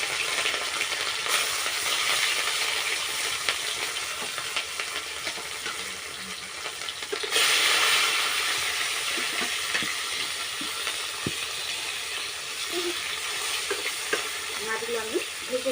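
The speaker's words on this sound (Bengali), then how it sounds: "মাছগুলো আমি ভেজে নেব।" Fish frying in hot oil in a pan for a Bengali sour fish dish with lentil dumplings, a continuous crackling sizzle that swells louder midway, with occasional utensil taps and stirring, no voices.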